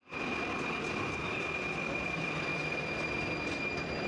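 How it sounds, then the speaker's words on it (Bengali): A train in Prague, Czech Republic, gives a steady, loud rolling rumble with a faint high whine running through it, continuous from start to end with no voices. "অনেকটা পথ পেরিয়ে এখন আমরা বাস থেকে নেমে ট্রেনে উঠছি"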